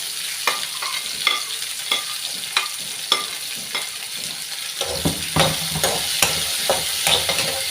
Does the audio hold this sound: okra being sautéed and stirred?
yes